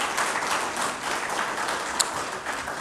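Audience applause at a literary awards ceremony, a steady roomful of clapping that runs evenly throughout, with one sharper clap standing out briefly near the end.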